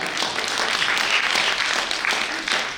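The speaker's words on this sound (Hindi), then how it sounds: "तो एक बार इन सारे गन्नों के लिए भी तालियां बजा दो।" Audience applause at a Hindi poetry gathering (kavi sammelan) in New Delhi, a dense, steady clapping that holds at a fairly loud level for about three seconds with no voices over it.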